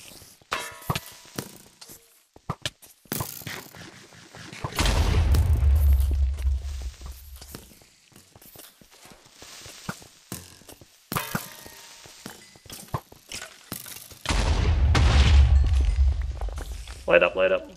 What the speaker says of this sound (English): Just stand back and let them explode.